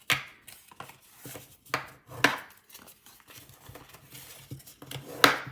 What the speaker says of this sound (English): I'm going to grab my bone folder, and let's fold up and crease these score lines